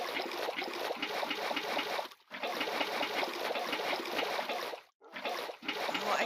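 Flowing water in the Minecraft video game, a continuous close trickling and splashing wash that drops away briefly twice before resuming, with no talking over it.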